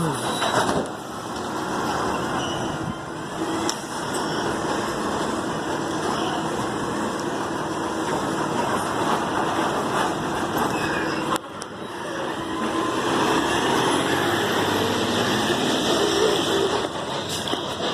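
A garbage truck engine runs steadily for a long stretch, a continuous rumbling drone nearby with a brief dip partway, while a person talks over it.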